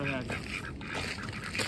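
Ducks quack nearby on a farm at sunrise, a few nasal calls overlapping, while people talk over them.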